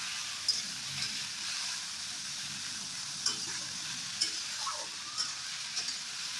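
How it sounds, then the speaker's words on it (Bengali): Potato and bitter gourd pieces fry in salted oil in a home kitchen pan, a steady close sizzle with occasional stirring clinks and scrapes, no voices. "আলু উচ্ছেটা ভালো করে নুন দিয়ে ভেজে নিচ্ছি।"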